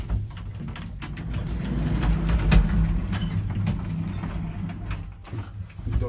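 The sliding doors of a 1960s Radnik lift rumble and clatter as they move, a low mechanical rolling with a few knocks building to a peak midway, heard close up with no talking.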